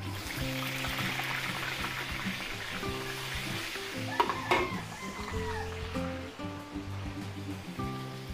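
Margarine sizzles in a hot pan during home cooking of a Filipino-style dish, a steady low frying hiss with faint stirring clinks, partly masked by background music.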